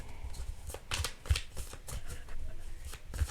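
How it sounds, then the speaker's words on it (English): Playing cards are shuffled and drawn from the deck in a run of soft riffling bursts and papery slaps, close and steady, with no talk over them. "just gonna pull 2 cards."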